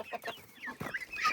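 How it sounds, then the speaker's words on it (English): A turken, a naked-neck chicken, clucks repeatedly in a baby-bird aviary, with short close bursts of fowl calls and a brief rising squawk near the end. "How is the turken in the baby camp?"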